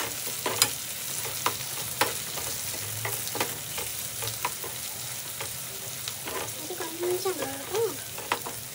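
Okra being stir-fried in a pan, a soft continuous sizzle broken by scattered clinks and scrapes of a spatula against the metal, with a brief murmur of a voice near the end.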